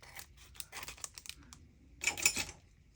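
Scissors snipping through cardstock while making a stamped card, close and quiet: a run of quick crisp cuts, then a short pause and a louder final burst of snipping.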